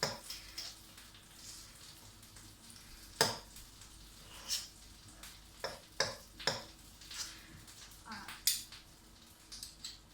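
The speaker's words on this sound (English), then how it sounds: "I'm just going to use my frying pan and fry up my meatballs" Chicken meatballs sizzle softly in a frying pan while utensils scrape and clink against it now and then, with faint kitchen clatter throughout.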